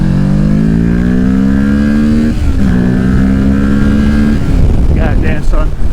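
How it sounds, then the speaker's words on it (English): A 2023 Kawasaki Ninja 650 motorcycle pulls hard in second gear, engine pitch climbing steadily as it revs up, easing briefly, then rising again under rushing wind. "Let's do a little second gear pull here."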